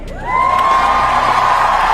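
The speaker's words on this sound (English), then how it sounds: "we see applause erupting when somebody says something like this" A crowd at an event breaks into cheering and whooping that rises quickly and holds loud and sustained, with a shrill chorus of raised voices.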